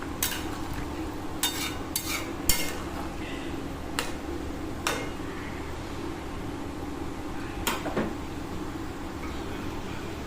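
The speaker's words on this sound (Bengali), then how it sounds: "দিয়ে খুব ভালো করে নাড়িয়ে নিতে হবে" A spoon stirs chicken in hot water in a pot, a low steady simmering hiss broken by a handful of sharp metallic clinks against the side, close and moderate in level.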